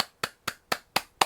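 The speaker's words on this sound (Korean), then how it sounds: "여러분 모두에게 박수를 칩니다." Five sharp hand claps at an even, steady pace from a lecturer applauding students at the end of a semester course, close and distinct with silence between them.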